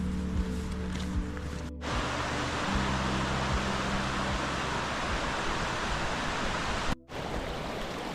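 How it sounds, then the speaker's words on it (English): The River Esk rushes over rocks near Gill Force waterfall in Eskdale, Lake District: a loud, steady broadband roar of flowing water close by, with low rumbling underneath and two brief cuts in the sound. "I'm now heading to Gill Force, and I'm going to head down to the water's edge and Billy can have a little play and a paddl"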